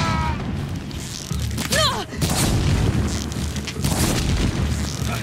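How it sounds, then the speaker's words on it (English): A deep booming explosion from the video game Horizon Zero Dawn bursts out mid-battle, followed by dense rumbling roar and crackling game effects that stay loud for several seconds. "I think you have fire on your back. Yeah, you're gonna explode."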